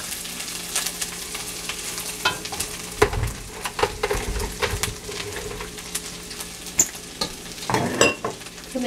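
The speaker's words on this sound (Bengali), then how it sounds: "এখন এটার সাথে আমি যে টমেটো পেস্ট করেছি সেটাকে ঢেলে দিব অবশ্য সাথে আমি বাকি যে লাল মরিচের গুঁড়াটা আছে সেটাও দিয়ে দিব" Tomato-onion paste and red chili powder hit a hot pan for butter chicken, frying with a steady crackle broken by louder stirring scrapes and bursts of sizzle, close and fairly loud, with no voices.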